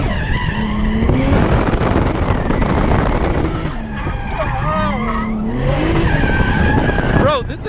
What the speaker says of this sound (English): Let's just drift it and see what happens